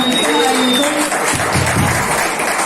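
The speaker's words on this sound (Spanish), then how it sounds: "Démosle un fuerte aplauso a todas estas hermosas mujeres" A church congregation applauds the women, a dense burst of clapping from a crowd that swells midway, with a voice over the PA at the start.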